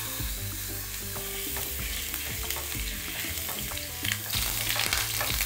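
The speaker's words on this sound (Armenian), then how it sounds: "Եվ բոլոր կողմերից տապակում ենք," Veal tenderloin sears in a hot pan for a warm salad, sizzling loudly and continuously with scattered crackles and pops, close up, with no talking.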